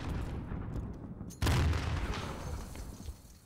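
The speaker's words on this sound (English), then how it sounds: "Let me get you with the pistol" A pistol fired in Modern Warfare multiplayer: one sudden, loud, sharp report cuts in midway and rings out in a fading tail, preceded by quieter scattered pops and background game noise.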